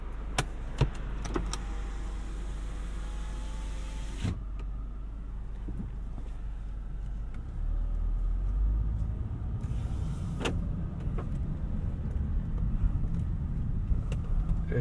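A 2013 Acura TSX wagon driving on the road, heard from inside the cabin as a steady low engine and road rumble with a few brief clicks and rattles, louder after about seven seconds.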